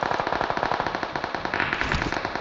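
Gunfire in the mobile game PUBG Mobile: rapid automatic bursts of close, loud shots crackle in a dense, even rhythm throughout.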